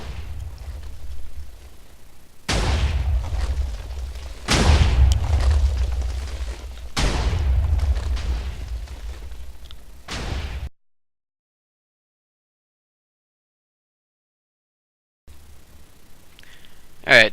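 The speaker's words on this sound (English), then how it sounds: "so that's my little fireworks show here." Four heavy booming blasts from Minecraft firework cannons go off in succession a couple of seconds apart, each with a rumbling tail, followed by silence and then faint background noise.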